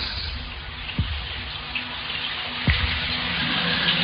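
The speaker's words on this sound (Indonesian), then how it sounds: "aku mendengar suara keran air di WC itu menyala. menyala dengan keras." Water runs hard from a tap in a men's campus toilet, a steady loud rushing wash that fills the room, with a couple of sharp splashy knocks along the way.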